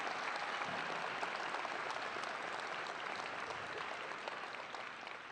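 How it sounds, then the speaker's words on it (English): Audience applause at a middle school promotion ceremony, a fairly quiet, steady wash of clapping from a seated crowd that continues evenly and tapers slightly toward the end. "A nice round of applause."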